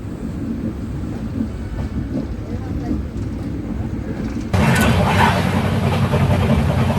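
Near the Gudivada line, a passenger train runs in a steady loud rumble and rattle, growing abruptly louder and brighter partway through as if a door or window opens, with a voice speaking over it.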